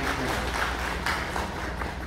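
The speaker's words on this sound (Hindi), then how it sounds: "अपने आप के लिए एक बार जोर से ताली बजाकर" Audience at a workplace safety training session clapping together, a steady dense patter of many hands with some voices murmuring underneath.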